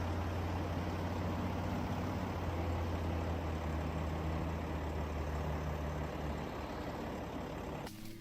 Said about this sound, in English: With engines thundering and wheels churning, they battle the sludge together.